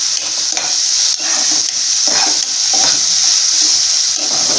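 Onions sizzle steadily in a hot pan for Tamil-style egg rice, a loud, even frying hiss broken by the light scrape and clatter of stirring, with no voices.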